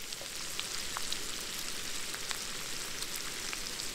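An onion frying in a pan of butter and oil gives a steady, soft, even sizzle with scattered tiny pops, close by and with no voices.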